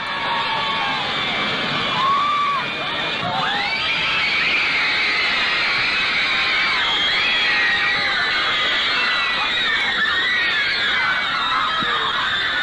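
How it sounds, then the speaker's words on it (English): A large crowd of fans at an airport in 1964 screams continuously at high pitch as the band's plane lands, a dense wall of shrill voices that stays loud and sustained throughout. "the screams reach a crescendo as the plane lands"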